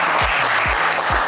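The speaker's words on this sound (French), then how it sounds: "Allez, Jean-Marc, on vous applaudit également" Studio audience on a French television game show applauding, a brief, steady burst of crowd clapping with deep, thumping pulses recurring underneath.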